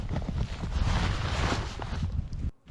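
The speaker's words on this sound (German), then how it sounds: "Wind ist da." Wind blowing over a snowy, frozen landscape as sleet begins, a loud continuous rushing buffet against the microphone that cuts off abruptly near the end.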